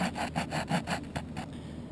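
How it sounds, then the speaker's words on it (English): The saw blade of a multi-tool cuts into a wooden hearth board with quick rhythmic back-and-forth strokes, about seven rasping passes close by that stop abruptly. "I'll go to the saw side of the multi-tool, and then I just kind of line it up"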